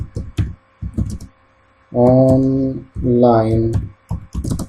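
Computer keyboard typing, quick soft clicking keystrokes in short bursts between stretches of a nearby speaking voice.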